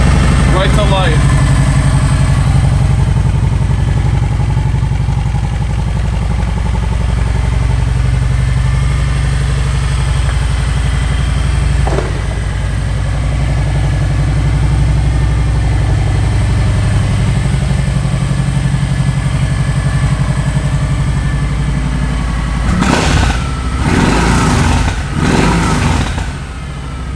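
A 2011 Kawasaki Vulcan Vaquero 1700 with aftermarket pipes idles steadily with a deep, loud rumble throughout, then gives a couple of sharp throttle blips near the end.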